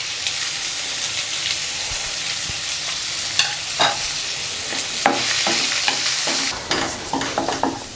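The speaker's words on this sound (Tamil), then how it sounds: "இப்போ வெங்காயம் வதங்கிடுச்சு." Finely chopped onions sautéing in a pan with a steady loud sizzle, as a spoon stirs through them in scattered scraping strokes near the end, with no voices.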